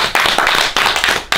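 Applause for a presenter at an online Christmas subscriber gift event: several bursts of hand clapping, close and loud, each sharp onset fading quickly, repeated at roughly half-second intervals.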